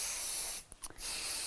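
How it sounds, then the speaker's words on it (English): 505 temporary adhesive spray is applied to fabric while sewing a storage cube, giving a short cluster of quick hissing puffs that breaks into a steady background hiss. "I'm going to use my 505 spray"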